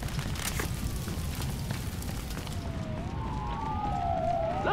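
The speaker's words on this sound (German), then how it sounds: "ich höre schon Polizei" A faint police siren in the video game Battlefield Hardline wails in the distance, rising and falling over steady rumbling background noise near the end.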